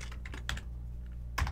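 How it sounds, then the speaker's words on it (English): Fingers tap quickly on a computer keyboard during a live software demonstration, giving a few close, crisp keystrokes in short clusters with a brief pause before another press. "I can't spell when I'm typing live."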